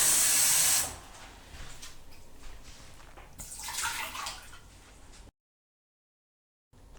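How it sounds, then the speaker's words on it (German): Running water hisses loudly as a urine cup is rinsed out, a strong spray at first, then a quieter uneven splashing that swells briefly before stopping abruptly into silence. "Der Becher wird anschließend immer noch mal gut mit Wasser ausgespült."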